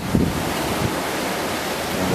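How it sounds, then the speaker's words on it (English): Ocean waves wash steadily at a Halifax waterfront in early morning, a loud continuous surf roar with heavy wind buffeting the microphone and no voices. "the waves are making noise"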